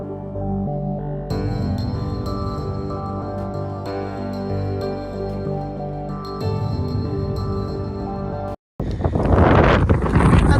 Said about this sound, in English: Okay, now it's very windy.